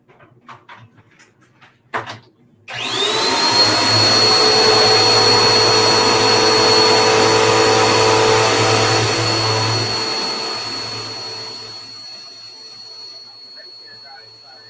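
A vacuum cleaner switches on after a few faint knocks to clean up crumbs, a loud sustained whine that holds steady for several seconds and then winds down slowly.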